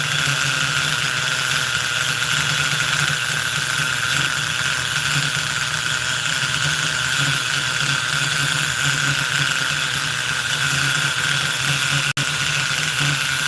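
A Force .25 CNC nitro model engine being broken in runs continuously at a steady, loud, high-pitched buzzing drone with a constant tone, no speech, and a single sharp click near the end.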